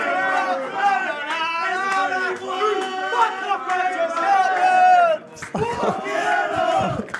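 At an eight-ball pool money match, a crowd roars and chants in loud, voiced bursts that rise and fall, dropping briefly before surging again.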